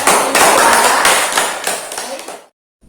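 Classroom applause for a student during an Al-Qur'an Hadith lesson, a dense burst of hand claps lasting about two and a half seconds before cutting to silence.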